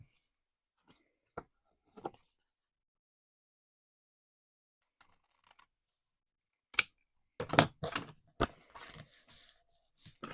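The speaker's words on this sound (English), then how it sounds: "So I'm going to just trim that off." Overhanging paper on a junk journal folio being trimmed: a few faint isolated snips early on, then a closer burst of crisp cutting and paper rustling toward the end, with no voices.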